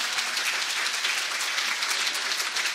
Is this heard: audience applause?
yes